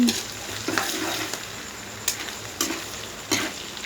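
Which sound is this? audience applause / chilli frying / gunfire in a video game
chilli frying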